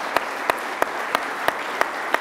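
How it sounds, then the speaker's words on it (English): A crowd at a discussion event with the leader of the Progressive Conservative Party applauds steadily, while one nearby clapper's hands land in a crisp, even beat about three times a second. "With that, round of applause for Patrick."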